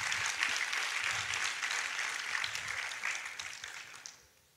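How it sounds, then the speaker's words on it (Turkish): An audience applauds at a film festival opening night, with dense clapping that holds steady and then fades out near the end. "Cem Kaya'ya büyük bir alkış"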